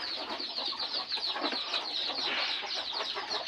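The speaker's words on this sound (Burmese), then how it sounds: "ကြက်တွေလည်းရှိပါတယ်ကြက်တွေပြမယ်နော်" A flock of chickens in a rural yard clucks continuously, with busy overlapping calls at moderate distance and no speech.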